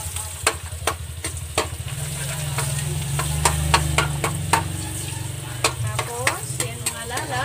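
Garlic crackles and sizzles in a hot pan while a utensil knocks and scrapes against it in sharp, irregular clicks, the frying steady and close beneath.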